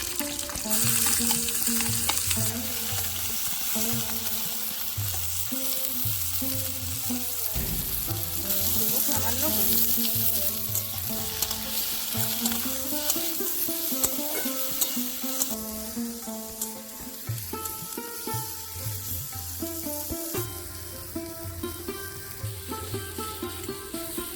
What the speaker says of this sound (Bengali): কালো জিরে ভাজা ভাজা হয়ে গেছে এবার আমি বেগুনগুলো দিয়ে দেবো